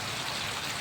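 Heavy rain pouring down at an outdoor maize market, a dense, steady hiss of water with no breaks over a very short stretch.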